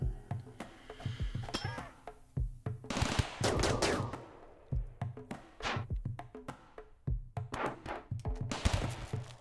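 Defensive turrets in the RimWorld colony game fire in repeated rapid bursts of clattering gunfire, with short pauses between volleys and occasional metallic clinks, fairly close, no voices.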